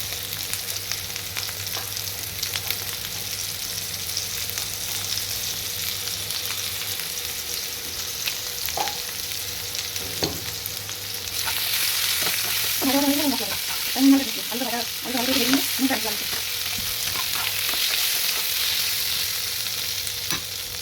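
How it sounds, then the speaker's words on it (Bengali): Potatoes fry with salt and turmeric in a pan, giving a steady hiss of sizzling oil, with a louder burst of stirring partway through. "নুন আর হলুদ দিয়ে আলুটা ভেজে নিচ্ছি।"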